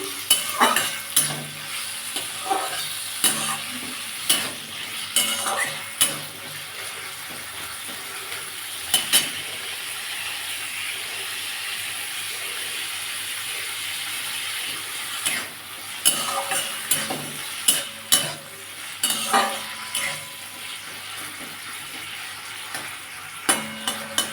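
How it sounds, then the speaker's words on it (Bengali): Prawns sizzle in hot oil in a pan, with steady frying hiss broken by repeated clinks and scrapes of a utensil stirring against the pan, no talking. "আমি কচুটা চিংড়ি মাছ দিয়ে করব তাই চিংড়ি মাছটা একটু ভেজে নিচ্ছি"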